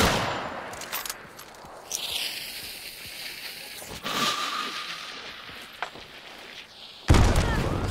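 Gunfire rings out in the video game Hunt Showdown: sharp, loud shots at irregular intervals, a cluster early on and a heavy blast near the end, over a noisy game backdrop.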